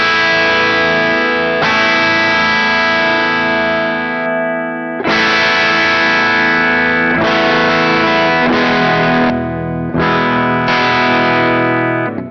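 An electric guitar through a JHS Sweet Tea V2 overdrive pedal plays loud, distorted chords with a gritty overdriven tone, strummed in several sustained bursts with short pauses between them.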